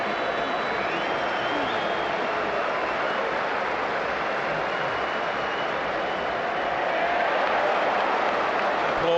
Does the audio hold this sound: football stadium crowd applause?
yes